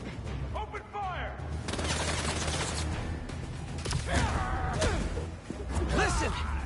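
Sustained gunfire in the Marvel's Spider-Man 2 video game, a dense rattling fusillade of shots and mechanical clatter that runs throughout, mixed with game voices and whooshing action sounds.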